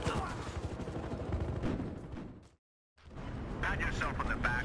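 Gunfire in Battlefield Hardline with the Scout Elite sniper rifle, dense shots and battle noise broken by a brief silent gap, with a voice talking over it.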